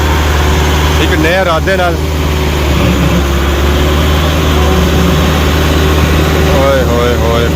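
A tractor engine strains at full power under heavy load while hauling sand, its loud steady drone running throughout beneath excited shouting voices.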